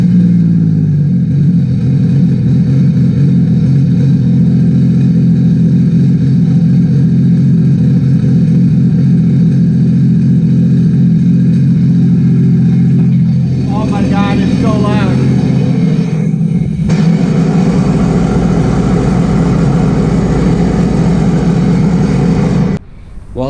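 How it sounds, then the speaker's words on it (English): A Sea-Doo RXP-X 300 engine fitted with a Riva Racing free flow exhaust runs loud and steady at idle, with a low throbbing rumble throughout and a brief rev partway through before cutting off at the end. "I'm gonna fire this thing up, hear what it sounds like."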